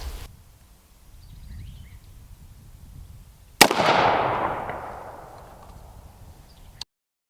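A custom-built AR-15 rifle with an aluminum-can lower fires one loud, sharp shot at a polished foil ball outdoors, and the report echoes and fades over several seconds.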